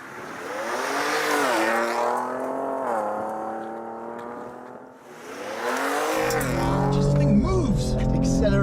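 An all-new Ford Ranger Raptor pulling away hard from a standstill, its engine climbing through rising gear sweeps with a shift dip midway, loud and near, followed by heavy rumble, with talk over the engine.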